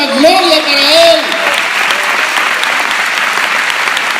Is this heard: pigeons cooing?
no